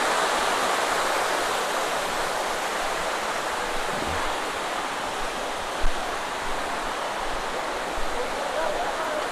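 A river flowing beside a village in Indonesia, a steady broadband rush of water that fills the whole stretch at even loudness, with a brief knock partway through and no clear voices.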